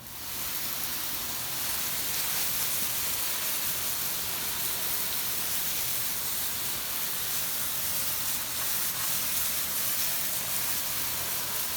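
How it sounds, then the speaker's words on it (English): Steady, close hiss of water spraying continuously onto freshly harvested sweet potatoes, broad and even throughout with no pauses or voices. "We'll just give them a nice spraying off individually as well"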